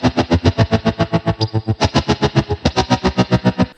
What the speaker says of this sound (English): you can hear the MIDI square wave cutting volume in and out, creating our desired stutter effect